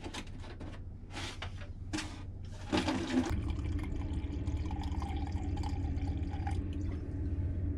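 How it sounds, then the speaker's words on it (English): An RV toilet flushes water down into the black water tank, with a few clicks and splashes followed by a sustained loud rush of draining water close by. "then flush the toilet and let it all go down inside"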